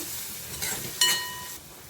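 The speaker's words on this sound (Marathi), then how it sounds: "त्याच्यावर हे सर्व मसाले टाकते हे सर्व मिक्स करून घ्यायचं आहे" Spices go into a pan for toor dal varan and get stirred, a faint background sizzle broken by two short scraping strokes of a spoon, with no voices.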